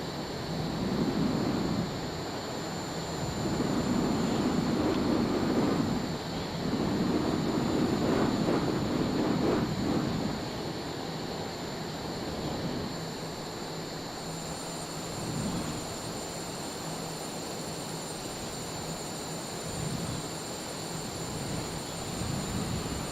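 A MiG-29 jet engine in Microsoft Flight Simulator drones with a steady roar and a high whine that swells and eases as the aircraft maneuvers, continuous throughout with no voices.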